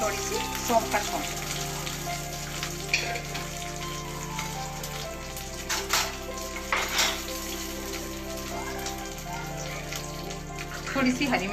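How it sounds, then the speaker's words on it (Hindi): Fennel seeds crackle and sizzle in hot oil with curry leaves, tempering for a fasting-style dosa, a steady busy hiss lasting throughout with faint speech under it. "और ये थोड़ी सी सौंफ का छौंक।"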